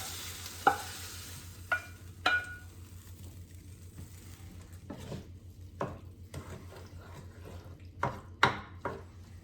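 Bell peppers tipped into a hot pan for a spicy dinner, giving a low steady sizzle with a few sharp clinks of utensil against pan and light stirring scrapes.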